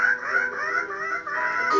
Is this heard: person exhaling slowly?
no